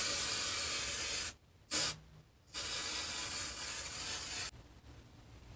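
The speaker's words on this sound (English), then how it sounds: "It's like I'm literally spray painting my hair." Sustained, loud aerosol spray hissing close by as Colorista Silver hair color spray is sprayed onto hair, interrupted by two short pauses, with a brief soft tone in one gap.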